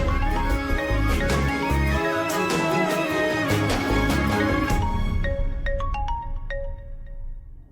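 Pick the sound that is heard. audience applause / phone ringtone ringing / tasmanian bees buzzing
phone ringtone ringing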